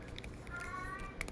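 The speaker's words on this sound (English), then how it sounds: "Pardon my cat, he's loud and stupid." A loud house cat gives a short, close meow lasting about a second, heard alone with light room noise.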